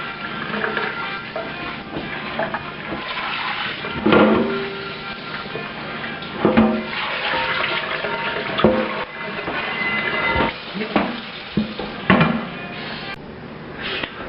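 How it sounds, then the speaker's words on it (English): Tap water rinsing a rusty cast iron pan during reconditioning, a steady running splash with occasional louder clanks and knocks as the pan is handled in the sink. "so we're going to rinse it and see where we are"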